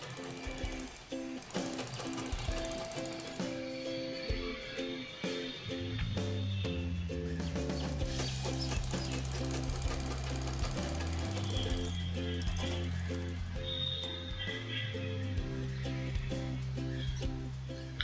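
A sewing machine stitches the round neck of a blouse with a rapid, steady mechanical chatter, running continuously at close range and shifting pitch slightly as the speed varies, with no talk.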